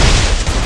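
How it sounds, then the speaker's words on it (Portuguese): A loud, close gunshot blast in a video game, one broad burst that fills the short moment. "Toma! Um tiro, Tur, um tiro!"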